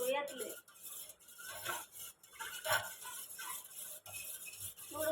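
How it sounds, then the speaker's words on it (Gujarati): A knife stirs lemon water in a metal tiffin box, close and quiet, with repeated clinking and scraping against the container and faint voices in the background. "નાના ચમચી લે આપણે છરીથી હલાવીએ"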